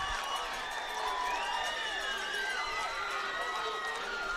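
A Ridgepoint high school baseball crowd at a regional quarterfinal playoff game cheers steadily, a dense wash of voices and whoops holding at an even, fairly loud level throughout.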